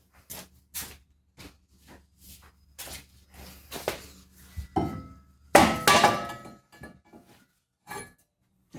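Hammer blows on the rear brake rotor of a Jeep Cherokee Trailhawk, a series of sharp metallic strikes at an uneven pace, several louder clanks midway, close with short ringing gaps between hits.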